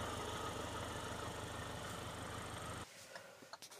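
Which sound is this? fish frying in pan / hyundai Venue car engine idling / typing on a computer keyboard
hyundai Venue car engine idling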